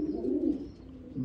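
A racing pigeon cooing close by, one soft, low, throaty coo rolling for about a second before a brief second note begins, with no talking.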